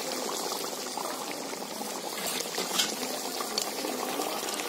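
Raw mustard oil is poured over a simmering Bengali hilsa fish curry in tel jhal style, giving a soft, continuous splashing and hissing sizzle, close and steady, with no talking.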